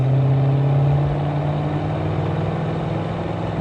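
A 1966 Ford Mustang Fastback engine drones steadily during a test drive on a Texas road, a loud, even hum with a slight dip in pitch early on and no talking.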